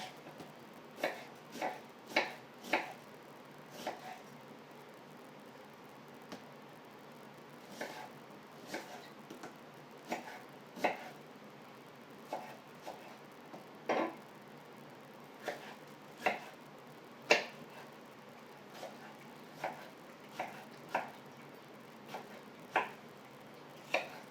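Knife chopping vegetables into thin strings for kimchi on a cutting board: sharp, irregular taps, some in quick pairs, spaced through a quiet room with no talk.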